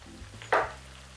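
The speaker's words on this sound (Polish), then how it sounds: "Teraz to lekko tylko wszystko tak, wiecie, przemieszam" A brief scrape of stirring cuts through ribs frying in a pan, seasoned with black pepper, turmeric, cayenne and sweet and hot paprika, over a low steady sizzle; a single short burst, close and fairly quiet.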